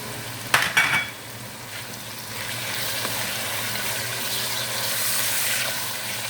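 Pasta frying together with chicken in a pan, a steady hiss and sizzle with a few clinks of utensils stirring near the start, close and continuous.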